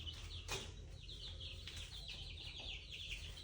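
Several chickens cluck and murmur close by in a steady, busy chatter, with a soft low hum underneath.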